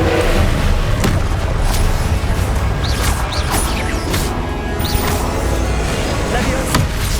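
Incendio fire spell cast in Hogwarts Legacy, a loud burst of crashing, booming combat effects with whooshing flares, dense and continuous with other spell impacts and voices mixed in.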